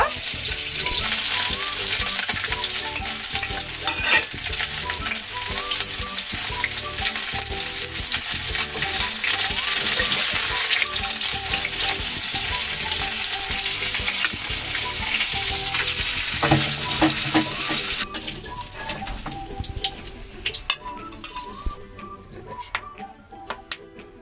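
Rohu fish fries in hot oil in a Bengali-style kitchen, a continuous loud sizzle with occasional stirring clicks that softens toward the end.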